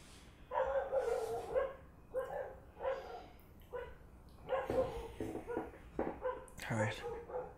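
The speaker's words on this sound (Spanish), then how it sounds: "Malditos perros. Eso se escuchará, supongo." Dogs bark in the video game Spec Ops: The Line, a series of loud, close barks in uneven bursts with short gaps between, ending in a sharp yelp.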